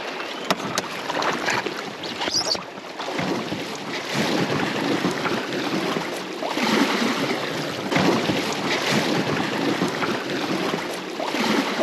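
A canoe moves along the Suomunjoki river in Patvinsuo national park, Finland, with steady water wash and gusty wind noise, and no one speaking.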